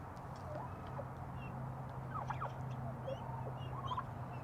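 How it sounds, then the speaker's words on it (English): Guinea fowl giving soft, scattered cheeping calls over a low steady hum, faint and intermittent, with no talk. "Now the guineas, see how quiet they are? They get that little cheep, cheep."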